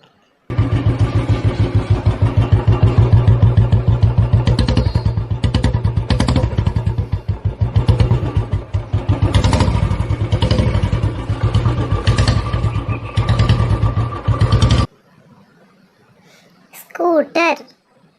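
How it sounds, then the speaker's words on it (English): A motorcycle engine revs loud and close for about fourteen seconds with rapid rhythmic firing pulses, followed by someone briefly speaking. "motorcycle."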